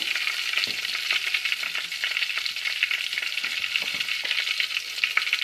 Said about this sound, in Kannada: ಅದಕ್ಕೆ ಸ್ವಲ್ಪ ಎಣ್ಣೆ ಹಾಕ್ಕೊಂಡು ಸಾಸಿವೆ ಹಾಕ್ಕೊಳ್ತಾ ಇದ್ದೀನಿ